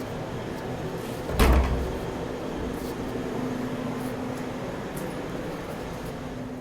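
An old door in an abandoned cinema entrance of a theatre opens with one brief thud and creak against a steady hum of room tone.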